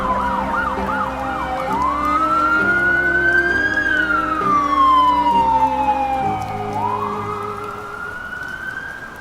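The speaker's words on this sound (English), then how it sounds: "a siren wailed somewhere across the river" A siren wails steadily across a river, its pitch rising and falling in long sweeps after a quick yelping start, over a low rumble of traffic.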